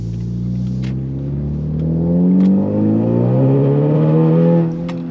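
A turbocharged Honda Accord engine revs and holds high with a wavering, stuttering drone as traction control cuts power in and out, with faint clicks on top.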